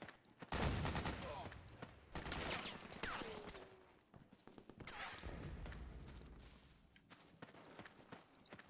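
Bursts of suppressing gunfire from the video game Metal Gear Solid 4, loud volleys and rattling fire broken by thuds and running footsteps, with game voices in the mix.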